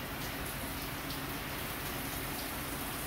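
Heavy rain pours steadily outside, a dense, continuous hiss of drops hitting surfaces that stays loud and even throughout with no voices.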